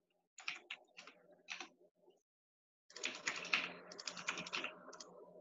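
Computer keyboard keys tapped in two bursts of quick, close typing with a short pause between them, entering test data for a new orthodontic patient record.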